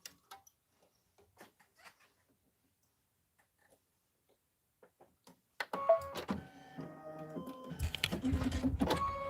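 An embroidery sewing machine running its automatic needle threader: faint sparse ticks and clicks at first, then a louder burst of mechanical whirring, clacking and motor tones near the end.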